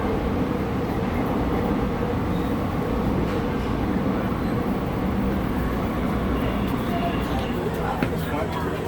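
A San Francisco Muni Siemens S200 LRV4 light rail train rumbles steadily, a broad continuous roar heard from on board or close by.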